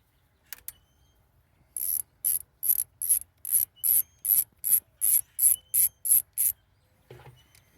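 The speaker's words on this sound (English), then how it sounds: "you have to get your socket and ratchet and take the keeper bolt out" A socket ratchet clicks in a quick series of about fourteen sharp, evenly spaced bursts as a keeper bolt is backed out during spark plug work on a 2014 Chevy Captiva SUV, close and clear with no talking.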